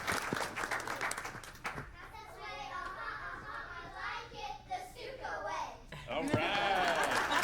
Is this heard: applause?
yes